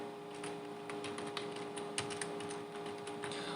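Java code being typed on a computer keyboard: quick, irregular key clicks in light bursts over a faint steady hum, close and fairly quiet, no talking.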